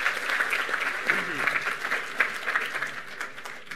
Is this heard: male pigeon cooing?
no